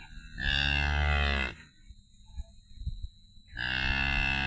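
A cow moos loudly twice, each long low call lasting about a second, separated by a pause filled with quiet rustling.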